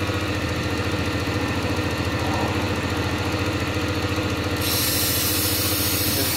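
A BMW E36 318ti with the 1.8is engine and a suspected torn diaphragm runs close by at a steady, loud, throbbing idle-like drone, holding an even pitch and level throughout with no talk.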